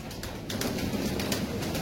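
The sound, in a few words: pigeons cooing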